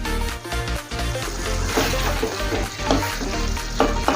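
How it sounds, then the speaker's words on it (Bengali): Masala with kasuri methi frying and being stirred in a pan for paneer masala, a steady loud sizzle with scraping stir strokes running throughout, no voices. "আবারও মশলা ভালোভাবে কষিয়ে নেব"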